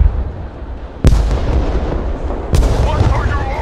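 Two sharp, loud explosions from a tank being destroyed in the battle game Broken Arrow, each a sudden boom that trails off into a rumbling roar.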